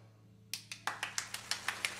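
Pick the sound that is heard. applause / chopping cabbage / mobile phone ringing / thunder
applause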